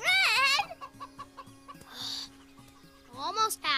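Cartoon chickens clucking in a rapid run of short bouncy clucks and squawks, close and clear, with some bursts of higher squawking and no talk over them.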